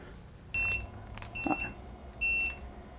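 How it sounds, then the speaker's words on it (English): A sous vide immersion cooker emits three short electronic beeps on reaching full temperature, evenly spaced about a second apart, clear against a quiet background hum. "It's beeping because it just came up to full temperature."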